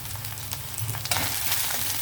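Cabbage curry frying in a pan, a steady close sizzle and crackle of oil with occasional stirring scrapes, growing a little louder partway through.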